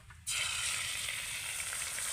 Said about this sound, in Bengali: এবার আমি এই পুরো ডিমটা কড়াইতে দিয়ে দেব।